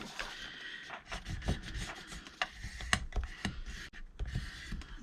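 A folded paper bag is burnished with repeated firm rubbing strokes, a close, dry scraping that comes in short irregular bursts, with no talking.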